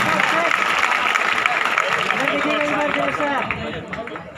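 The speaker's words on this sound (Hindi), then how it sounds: "जोरदार तालियों से इनका स्वागत करें।" Audience applause welcoming an MLA at a foundation-stone ceremony for a school building, a dense, continuous wash of clapping mixed with crowd voices, steady throughout and easing slightly toward the end.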